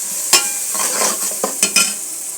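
A spoon stirs rohu fish curry with turmeric in a sizzling pan, several loud scraping strokes over steady close frying.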